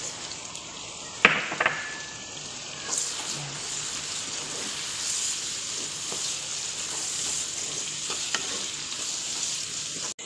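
Onion and tomato frying in a pan for chicken biryani, a steady soft sizzle running throughout, with a few sharp utensil clinks near the start and end.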